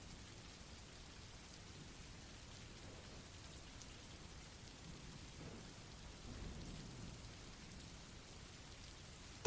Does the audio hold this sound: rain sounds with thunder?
yes